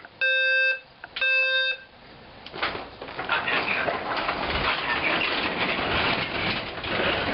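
A building fire alarm system sounds during a test. Two short electronic tone bursts ring out first, and a long, loud, harsh horn-like signal follows and continues steadily.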